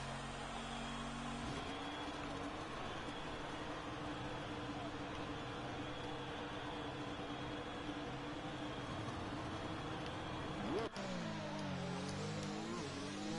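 A McLaren Formula 1 car in a racing game at the Bahrain circuit, its engine droning steadily with a high whine, then a sharp gear shift and a rising rev toward the end, heard faintly under a commentator talking.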